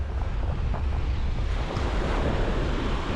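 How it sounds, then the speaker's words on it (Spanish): Ocean waves breaking on the beach at Playa de la 72 in Playa del Carmen, a steady, loud surf wash mixed with wind noise, with no voices. "con el sonido de la última ola"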